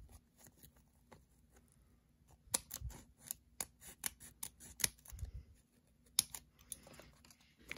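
Scissors cutting paper for a paper F-14 airplane, a quiet series of crisp snips and rustles in an irregular rhythm, close up, with no talking.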